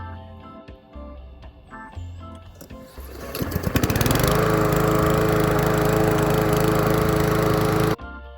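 A Troy-Bilt TB-105 push lawn mower coughs a few times on its first pulls, then starts and runs at a steady loud drone until it cuts off abruptly.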